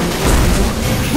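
Bomb blast in the cartoon war game World War Toons, a loud, dense low rumble sustained for about a second with no voices over it.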